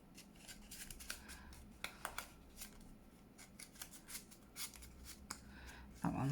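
Scissors snip small cards down for a junk journal in a string of quiet, close, irregular cuts with light paper rustling between them and no talking.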